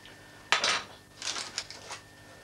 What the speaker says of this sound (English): So if you, when you're melting it, just keep stirring it round.